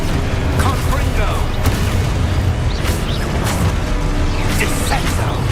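Fiery Confringo spell blasts from Hogwarts Legacy gameplay, a dense, loud run of booming explosive bursts and impacts over continuous game noise and music, without a pause.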